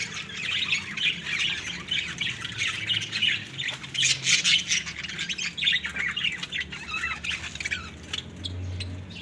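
Pet birds kept as two breeding pairs with chicks squawk and chirp continuously, a dense, busy chorus of sharp, close calls with occasional wing flutters, and no voices.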